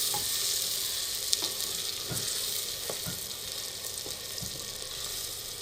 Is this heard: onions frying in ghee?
yes